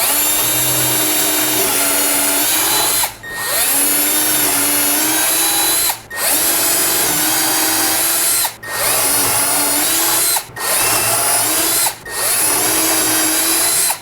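Shelf pin holes drilled with a Kreg Shelf Pin Jig, a loud continuous high power-drill whine broken by five brief pauses between holes, with faint background hum.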